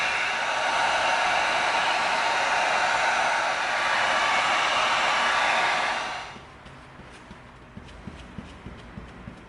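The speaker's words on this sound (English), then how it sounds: "We heat seal before we glue." A heat gun heat-seals EVA foam with a loud, steady blowing roar for about six seconds. It then shuts off, and faint clicks and handling noises follow.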